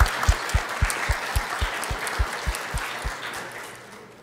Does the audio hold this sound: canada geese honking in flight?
no